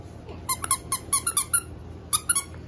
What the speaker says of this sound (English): I should squeak it.